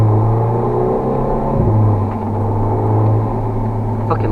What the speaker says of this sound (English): I fucking love that intake noise.